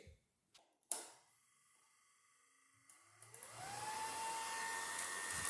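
A small blower driven by an RS-360 motor clicks on after a few faint taps, then spins up its impeller to a rising, steady whine and airy rush that grows louder toward the end.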